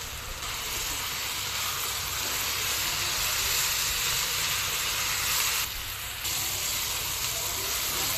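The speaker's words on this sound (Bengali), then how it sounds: "আলু ভাজিতে পেঁয়াজ, মরিচ, রসুন দিয়ে দিচ্ছি।" Potatoes with onion, chili and garlic frying in a pan give a loud, continuous hissing sizzle that holds steady throughout, dipping briefly once near the end.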